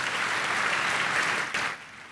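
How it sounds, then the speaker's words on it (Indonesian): A church congregation claps together in a broad, dense burst of applause that holds steady, then drops off sharply toward the end. "Tepuk tangan yang paling meriah buat Tuhan."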